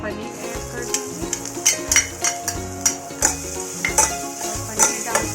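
A spoon stirs crumbled paneer into a spiced paratha filling with turmeric, chili powder and black salt, making repeated scraping strokes in a steady rhythm over a soft background sizzle.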